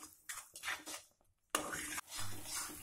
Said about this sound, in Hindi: इसको ऐसे लगातार चलाते रहना है कलछी की सहायता से